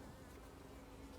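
Close, steady swarm drone of honeybees around an opened hive during an early-season inspection, dense and continuous with no voices over it.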